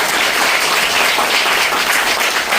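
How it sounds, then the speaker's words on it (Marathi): A crowd of students and teachers claps steadily at a government school book-distribution event, welcoming a guest with dense, loud applause that holds evenly throughout. "सर्वांनी टाळ्या वाजवून त्यांचं स्वागत करा"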